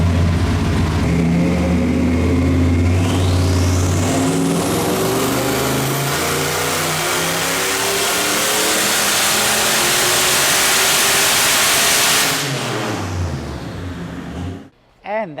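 A turbocharged LS3 V8 on a hub dyno revs hard through a full pull, pitch climbing steadily with turbo whine rising over it, held loud at the top before the throttle snaps shut and the engine winds down.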